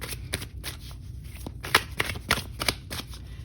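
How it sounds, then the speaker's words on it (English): Oracle cards being shuffled by hand: quick papery riffles and soft slaps in an irregular rhythm, close and fairly quiet, with no voice over them. "Let's pull some oracle cards here."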